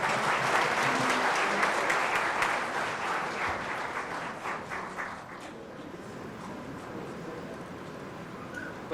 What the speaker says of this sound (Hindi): पूज्य स्वामी जी के लिए एक बार जोरदार तालियां।